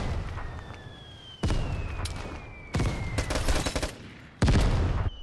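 Bursts of video game gunfire during a rooftop firefight, with three loud sustained volleys of rapid shots separated by quieter gaps and a faint whining tone underneath.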